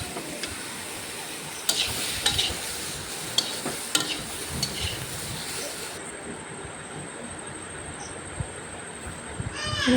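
Potato curry stirred in a pan, a steady scraping and sizzling texture with occasional sharp spoon knocks, close and fairly loud throughout.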